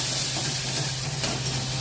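Homemade chili paste made with garlic, vinegar and dried chillies fries in a pan over nigella seeds, giving a steady close sizzle with faint stirring and no talk.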